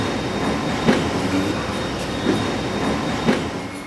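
Train rumbling through Turnpike Lane-style London station platform, a steady low roar of carriages with periodic wheel clacks over rail joints roughly every second and a half, continuous and moderately loud.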